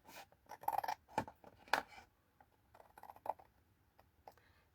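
Scissors snip through gold rainbow mirror card while cut lines are made for a gift bag, giving several quiet crisp clicks and short slicing rasps spread unevenly across a few seconds.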